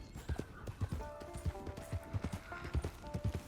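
Hooves clop in a brisk, regular rhythm from horses in the Red Dead Online video game, close and distinct, with only a faint hint of a whinny behind the hoofbeats.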